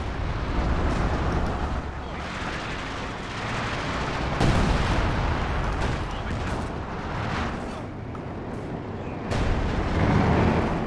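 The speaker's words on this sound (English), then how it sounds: "Howitzer's going to work." Howitzer artillery fire from the video game Company of Heroes 2 in a 2v2 match brings heavy, rumbling booms and explosions that come in repeated waves over continuous battle noise, with commentary voices underneath.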